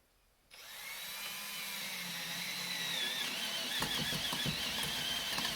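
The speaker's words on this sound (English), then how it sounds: "Now we got to drill the hole for the 3/4 inch pipe." A power drill whirs to life after a short silence and runs steadily, close by, boring a hole for a 3/4 inch pipe at a cabin, with rattling and grinding creeping in toward the end.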